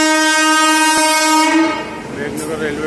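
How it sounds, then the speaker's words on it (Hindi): A freight train passes through Meghnagar railway station in Jhabua, Madhya Pradesh, with a loud, long horn blast close by, giving way to the rumble and clatter of the passing wagons. "एक और ट्रेन आ रही है"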